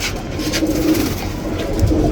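Military pigeon cooing up close, a low, soft, rolling coo repeated steadily for about two seconds with no voices.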